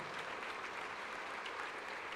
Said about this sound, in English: You deserve a major round of applause for that.